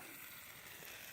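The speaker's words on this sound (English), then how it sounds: "You can hear it sizzling." Steady, faint sizzling of potatoes, onions and shaved steak frying in a pan, a continuous crackly hiss with no voices.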